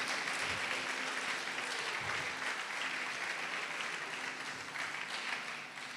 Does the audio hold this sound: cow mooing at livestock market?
no